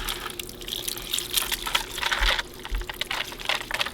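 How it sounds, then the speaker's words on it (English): Grains of purple sticky rice poured from a bowl into a woven steaming basket set over another bowl, giving a soft, continuous rattling patter close by with a few brief surges, no one speaking. "I'm going to go ahead and pour the rice straight into the basket"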